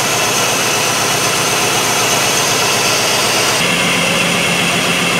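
A 2005 Jeep Liberty 3.7L engine with a multiple-cylinder misfire runs steadily and loudly up close during a cylinder drop test, its even drone shifting in tone partway through as one coil is unplugged.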